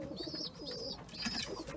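Young pigeons coo softly in a loft, with several overlapping low, rolling coos running steadily throughout at moderate volume, close by and without speech.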